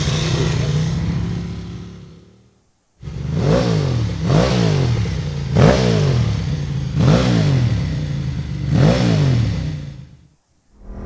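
A Ducati racing motorcycle engine revs in repeated rising bursts, about five sharp throttle blips in a row after a brief pause, loud and raspy up close.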